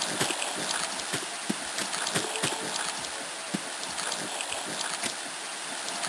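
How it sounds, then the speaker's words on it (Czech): Steady boat motor drone from the video game Tomb Raider Remastered, a continuous hissing rumble with water wash, moderately loud and unbroken with no talk. "ten motor to mega přehlušuje"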